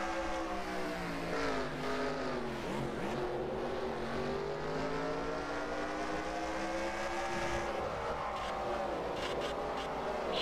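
Onboard engine of a NASCAR Busch Series race car at Road America in the NASCAR Racing 2003 game, a loud continuous howl with harmonic pitch sweeping up and down through shifts and corners, steady and close throughout.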